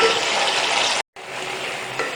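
Water poured into a hot pan of frying onions while cooking beef pulao sets off a loud, steady sizzling hiss that briefly cuts out, then continues at full strength.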